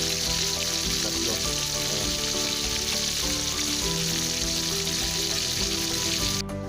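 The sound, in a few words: fish frying in a pan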